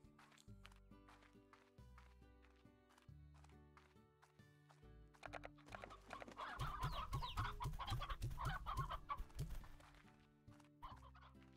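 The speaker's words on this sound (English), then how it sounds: "More chickens." Video game chickens cluck in quick repeated bursts over a steady looping musical background, the clucking thickening and growing busier midway before thinning again, with no talk.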